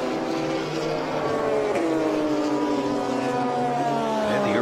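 A pack of Porsche race cars, a 2018 Porsche GT3 Cup car among them, roars around the track at the Sholar-Friedman Cup during Rennsport Reunion VI. The loud layered engine notes rise and fall as the cars shift and pass, with no talk.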